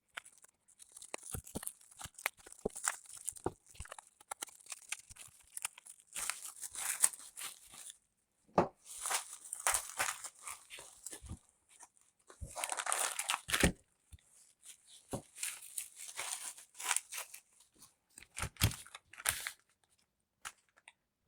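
Packaging for a 4-wheel drive acrylic chassis kit being torn open and crinkled, a close, quiet run of rustling, crumpling and tearing bursts with short pauses between handlings.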